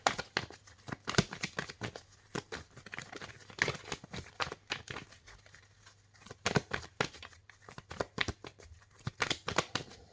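Tarot cards being shuffled by hand, rapid close riffling and flapping with papery slaps in irregular bursts over a quiet room hum.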